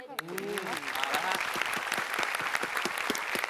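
Studio audience applauding on a Thai television singing competition show, a loud sustained burst of many hands clapping, with a brief voice at the start.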